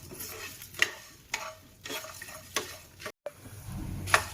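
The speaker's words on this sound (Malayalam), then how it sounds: "ഇതെല്ലാം കൂടെ ഒന്ന് ചെറുതായിട്ടൊന്ന് വറുത്തെടുക്കണം" Dry coriander seeds are stirred and scraped in a pan, giving several rhythmic scratchy swishes with brief spoon clinks and no sizzle.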